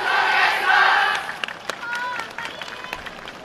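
A crowd roars for a YOSAKOI dance team at the YOSAKOI Soran Festival, with a loud burst of shouting and cheering that fades into scattered claps, calls and bright noisemaker-like clicks.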